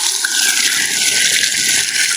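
Water pours steadily from a stone spout at a Nepali family home: a close, continuous splashing rush that stays even throughout with no voices.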